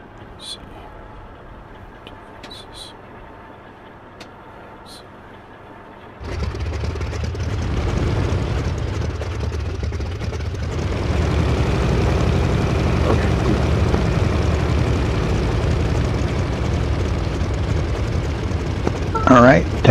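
An aircraft taxiing before take-off in a flight simulator game, engine rumble swelling from a quiet idle into a loud, steady low roar that builds further and holds, with a few faint clicks early on.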